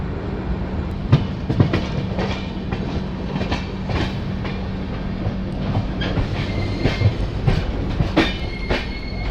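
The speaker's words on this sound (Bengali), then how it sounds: "ফাইনালি খুর্দা রোড ছেড়ে ট্রেন বেরিয়ে যাচ্ছে।" A Digha–Visakhapatnam express train pulls out of Khurda Road station at night, with close, loud clickety-clack of wheels over rail joints, rhythmic thumps and brief squeals over a constant rumbling roll.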